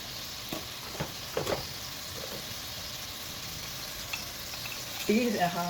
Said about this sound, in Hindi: अब इस मसाले को और गोश्त को फ्राई करेंगे।